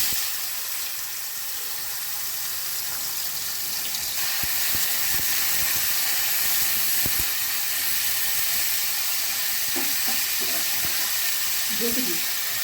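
Bitter gourd slices frying in oil for a bitter dal, a steady loud hiss and sizzle up close, with faint voices briefly near the end.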